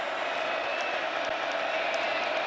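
Football stadium crowd at a Texas Tech versus Arizona State college game, a broad steady roar of distant cheering and applause filling the whole moment.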